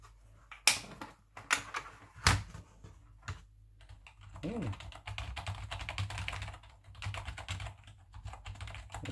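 Keys on a Challenger Prime RGB gaming keyboard clatter in quick, irregular bursts of taps and clacks, fairly close but soft, with brief pauses between runs and a faint voice murmuring in the background.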